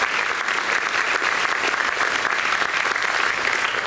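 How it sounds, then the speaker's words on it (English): Banquet guests at a university alumni reunion give a steady, full round of applause, even and sustained throughout. "Please give a round of applause."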